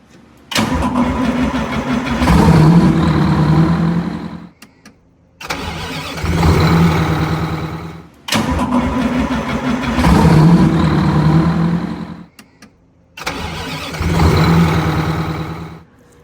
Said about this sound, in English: Here we replace a traditional, very heavy Detroit starter with a gear reduction starter. It uses less power and it turns over much faster.